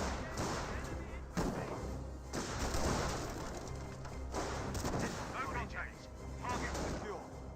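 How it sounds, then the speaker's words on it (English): Rifle squad gunfire and battlefield explosions from a Company of Heroes match, with repeated shots and thuds in irregular bursts, sitting under continuous commentary from a speaking voice. "Got the Scope Rifle squad firing away."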